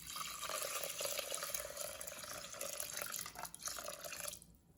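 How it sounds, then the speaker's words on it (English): Cold water pouring steadily into a pot of rice, a continuous splashing trickle that fades out at the end, fairly quiet and heard alone. "add in 2 cups of cold water."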